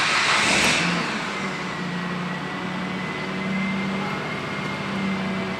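A Mitsubishi Outlander with service 4WD and airbag warning faults running steadily, its engine a continuous mid-pitched hum with a faint whine, loudest at the start-up moment and then settling into an even idle.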